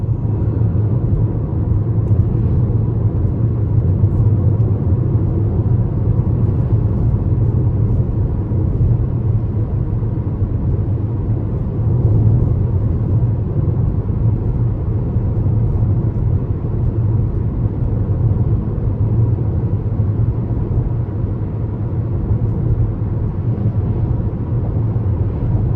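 A 2021 Toyota Venza XLE AWD rolls over a rough, bad road, giving a steady low rumble of road and tire noise inside the cabin. The rumble holds at an even level throughout, with no engine rise and no talking.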